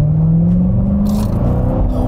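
A Corvette C7 Grand Sport engine cruising in Monaco gives a short, loud, close rumble with a rising rev that settles back, with no talk.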